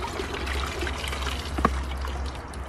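Water pours steadily over a pump-fed pond waterfall, a continuous soft splashing trickle with low rumble beneath, moderately quiet and unbroken apart from one brief tap.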